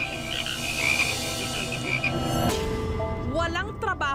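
Frogs croak loudly and close by, a dense, continuous chorus of overlapping calls with sharper rhythmic croaks near the end.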